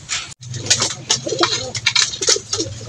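Pigeons coo repeatedly inside a newly built coop, soft throaty calls overlapping close by over a steady low hum, with light flutters and shuffling.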